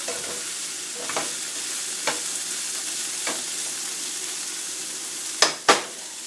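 Mutton pieces sizzle in a pot for a stew, a continuous frying hiss broken by a few scraping stirs, the last two sharper and louder, heard close with no voices.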